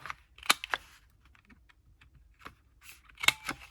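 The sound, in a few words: corner rounder punch rounding paper journal corners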